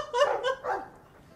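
A dog in the video game Dragon Age 2 gives three quick, fairly soft barks in a row, then falls quiet, with no voices over it.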